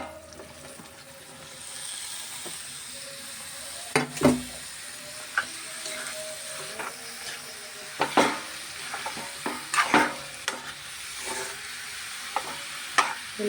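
Tomato and bottle gourd pieces sizzle and fry in a pan, with a steady hiss broken by repeated sharp scrapes and clinks of stirring, close and fairly quiet, no talking.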